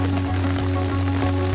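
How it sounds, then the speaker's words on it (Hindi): Heavy rain falls outdoors, a steady, dense hiss of drops on surfaces around a home with potted plants, continuous and unbroken with no voices. "और अभी भी बहुत बारिश लगी है।"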